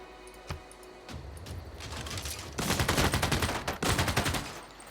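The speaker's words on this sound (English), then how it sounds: "Firing with machine guns and wooden ships." Machine gun fire from the Civilization 6 video game rattles in dense rapid bursts, quiet at first and then building into continuous heavy volleys.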